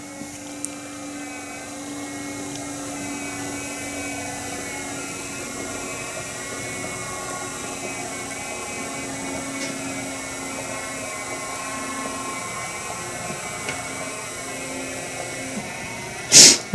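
A Cupilo foot massager runs steadily on high air compression with heat on, giving a continuous mechanical hum and whirring motor drone with faint tonal lines, close and even throughout, ending in a brief louder bump.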